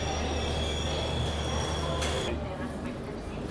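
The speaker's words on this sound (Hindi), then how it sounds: "पहुंच रही है Jasidih Vasco D gamma express और हम लोग निकल रहे हैं हुबली से" An express train moves out of Hubli station, a heavy continuous rumble with metallic wheel squeal and a high whine over it, loud and close throughout.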